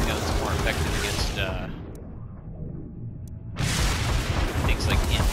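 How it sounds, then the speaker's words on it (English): A grenade goes off in a first-person shooter game, a loud booming blast with a whooshing burst that drops into a brief muffled lull before another heavy roar of noise returns, filling the whole moment. "I start to clear out with a grenade"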